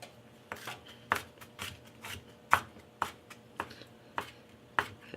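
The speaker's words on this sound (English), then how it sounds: "So we're going to cut this green pepper" Knife cutting a green pepper into small pieces on a cutting board, a run of about a dozen sharp, close chopping strokes spaced at an irregular, steady pace with no talking.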